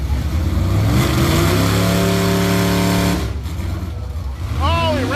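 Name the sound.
drag racing car engine revving at full throttle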